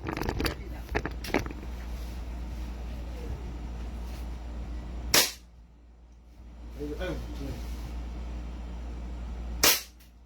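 Two sharp pistol shots from a 2011 6.0 Infinity handgun, about four seconds apart and very close, with people talking and gear rustling before and between them.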